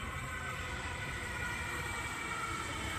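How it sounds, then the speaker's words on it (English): A Sydney Waratah electric train pulls into a station platform with a steady, dense rumble and rail roar that holds at an even level throughout, with no voices heard. "We have a Waratah arriving onto platform 1 for a city circle via airport service."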